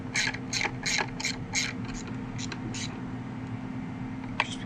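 A 1/4-inch-drive ratchet with an E10 socket and swivel loosens the oil filter housing bolt on a 2008 BMW 528i 3.0 engine. About eight crisp, rapid clicks come close up, followed by a quieter stretch and one last click.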